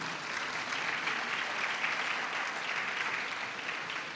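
Conference audience applauding a reverend chaplain at an e-learning week opening, an even, sustained wash of many hands clapping in a large hall, moderately loud, with no talk over it.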